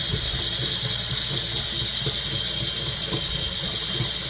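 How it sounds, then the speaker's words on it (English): Ratcheting clicks from a tool screwing a part back onto a Pfister Sonterra bathroom faucet during a leak repair, a steady run of small mechanical ticks over a constant broadband hiss. "We'll screw this back on."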